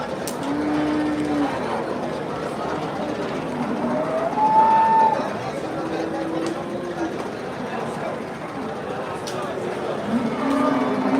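Several drawn-out cattle moos, one louder in the middle, rise over a steady crowd murmur and outdoor chatter at a cattle market in Bangladesh.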